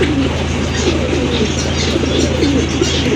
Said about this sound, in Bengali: এটা হচ্ছে ব্ল্যাক চেক দামাচিনার একটা নর কবুতর